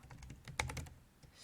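Keys clatter on a computer keyboard in a quick, light burst of typing, faint and close.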